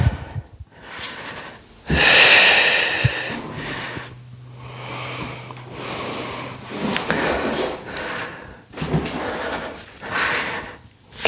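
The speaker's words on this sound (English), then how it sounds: "Big breaths." Deep, audible breaths during a Pilates pre-run warm-up, several long inhales and exhales in a slow rhythm, close and fairly loud, with soft rustling of movement on a mat between them.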